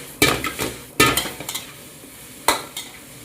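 Cabbage frying in a pan with salt is stirred in three scraping, clattering strokes that stand out clearly over a soft, steady sizzle, with no voices.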